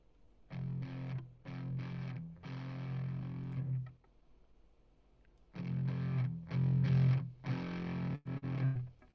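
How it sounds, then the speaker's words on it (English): A distorted electric guitar plays a chugging riff in short palm-muted bursts, two phrases of choppy repeated chords split by a brief pause, gritty and fairly close with no talking. "So this whole thing just started with this one guitar riff idea that I had."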